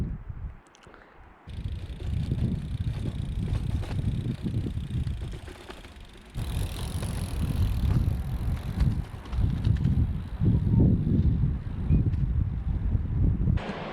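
A loaded touring bicycle rolls down toward a beach on the Gower Peninsula, a steady close rush of tyre and drivetrain noise mixed with heavy wind buffeting the microphone, ongoing throughout without talk.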